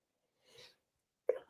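A single sharp sneeze from someone on a live chat show, preceded by a soft breathy intake about half a second earlier, close and fairly quiet.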